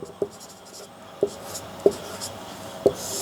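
Writing on a classroom board in a chemistry lesson: steady faint scratching with four distinct taps as strokes start, close and fairly quiet.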